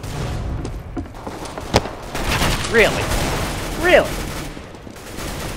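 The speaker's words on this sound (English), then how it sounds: "I thought you were shooting me through the floor." Bursts of gunfire in the video game CS:GO, sharp shots scattered through the clip under a player's voice talking over game chatter.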